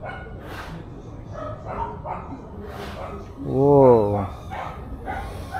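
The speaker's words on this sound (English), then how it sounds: "There are a lot of dogs" A lot of dogs bark nearby in scattered yaps and woofs, with one louder, drawn-out whining bark in the middle; a person briefly exclaims once.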